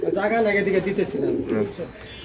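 Racing pigeons coo close by in a soft, throaty warble that rises and falls continuously over about two seconds, loud and with little else around them.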